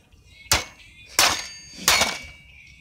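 A hammer strikes three times at roughly even intervals while a part is being knocked loose, each blow a sharp, close metallic crack with a short ringing tail.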